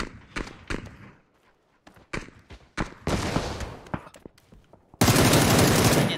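Video game battle with cannon fire and gunfire: sharp shots and bursts crack out in irregular volleys, ending in a loud sustained roar of fire, all close and with no voices.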